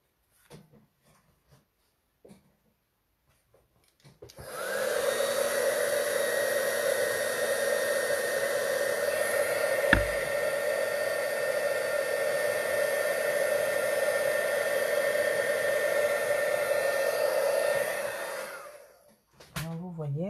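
Embossing heat tool warming powder on a stamp: a steady, close blowing roar like a hair dryer that starts abruptly, runs evenly for about thirteen seconds with one sharp click midway, then cuts off, with no talking.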